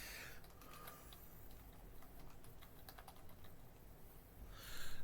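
Typing on a computer keyboard at a desk, a quiet, close run of irregular key clicks with a louder burst at the end.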